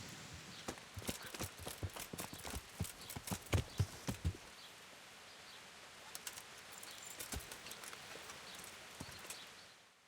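Hooves of a horse in the game Kingdom Come: Deliverance, clip-clopping in a quick irregular series for the first few seconds, then a few sparse hoof strikes over quiet outdoor ambience with faint birds.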